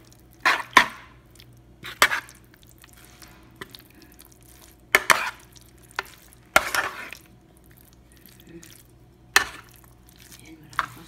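Spaghetti with tomato and white cheese being stirred in a pan, heard as a handful of separate scraping, clattering strokes spread over several seconds, with a faint sizzle underneath and quiet pauses between them.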